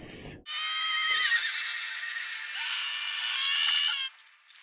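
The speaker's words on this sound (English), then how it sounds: "Horsies to the rescue!" Horses neighing in The Two Towers, a single long, loud whinny with a shrill, wavering tone that rises and trembles for about four seconds, alone and up close.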